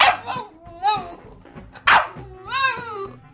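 A human voice imitates a puppy, giving a few short yapping barks and whiny yips in quick bursts, close and fairly loud.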